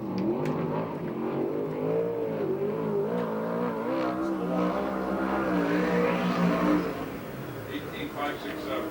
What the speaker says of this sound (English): the first lap for Billy Blinn